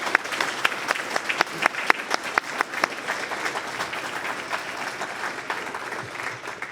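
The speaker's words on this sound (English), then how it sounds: "If we'd have one large round of applause for all of our students today." Audience applause for students at a school breakfast event with parents present, a steady round of many hands clapping close by, sustained for several seconds with some sharp individual claps standing out.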